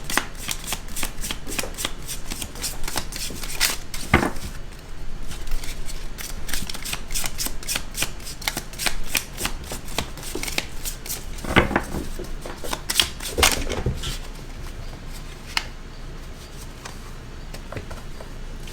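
Tarot cards are shuffled and drawn in a continuous run of crisp riffling and flicking, close and clear, with denser bursts of card snaps throughout and no voice.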